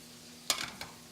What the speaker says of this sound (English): We've got 2 cloves of chopped garlic, which we're going to add into the saute pan.